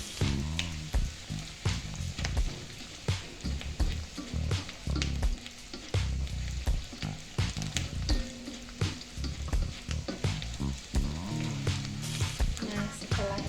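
Onion and garlic sautéing in a pan for a tofu and shrimp stir-fry in oyster sauce, with a steady loud sizzle broken by frequent scraping stirs of a spatula, close up and with no talk.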